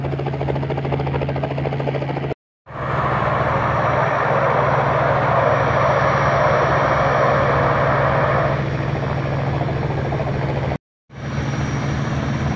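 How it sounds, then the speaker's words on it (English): A small airplane takes off from Springbank Airport, a steady loud engine drone with a low hum holding throughout, broken by two brief cuts. "There goes Caleb, up in the air."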